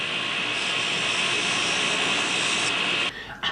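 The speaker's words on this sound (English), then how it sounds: "Grinder is working." An electric grinder powered by a generator unit runs with a loud, steady, high-pitched whine that holds for about three seconds, then cuts off abruptly.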